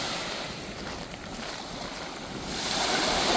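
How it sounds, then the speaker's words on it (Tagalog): Strong waves wash against a rocky shore at sunrise, a broad continuous rush of surf that swells louder toward the end, blended with gusty wind buffeting the microphone. "Oh, malakas ang alon."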